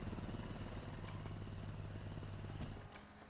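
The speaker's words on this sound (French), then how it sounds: "je suis sur la moto" Motorcycle engine idling nearby, a steady low throbbing hum that holds for about three seconds before fading slightly, with faint background noise and no talking.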